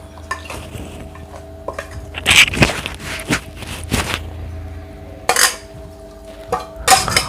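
Thai spicy chicken feet salad with rice noodles is tipped into a tray, giving loud clattering knocks and scraping of utensils and dishes in uneven bursts, close by with no talking.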